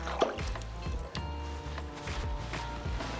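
Fresh garden rosemary is rinsed under running water, splashing and dripping close by in an uneven, continuous patter.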